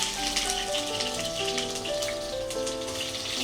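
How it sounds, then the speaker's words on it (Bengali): Thin-sliced potatoes with water on them fry in hot oil, giving a steady close sizzle with fine crackling spatter throughout. Tonal hum lines run underneath. "এখন একটু আলুটা ভেজে নেবো, এমনি পাতলা করে চিকেন করব"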